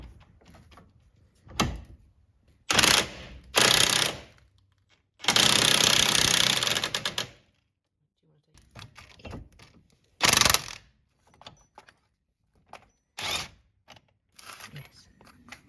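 A 30mm socket is worked on a car bearing during a first-time repair, giving short close bursts of harsh ratcheting and grinding, one long stretch of about two seconds, separated by quiet pauses.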